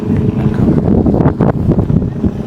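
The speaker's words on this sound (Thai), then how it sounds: "ลมแรงแล้ว" Strong gusts buffet the microphone in a loud, continuous low roar at a parking area near the giant wind turbines of Khao Yai Thiang, Korat, with no talk over it.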